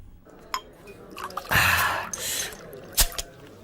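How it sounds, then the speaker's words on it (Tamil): Liquor being poured into a glass during a drinking scene, with a sharp clink at the start and a close splashing pour in the middle, followed by another clink; no talk. "எனக்கு ஒரு ரவுண்டு ஊத்துறா."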